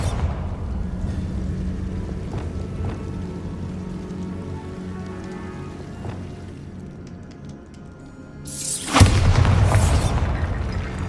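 A Bombarda spell explosion in Hogwarts Legacy erupts as a loud, close blast with a rumbling tail near the end, following steady ambient game sound.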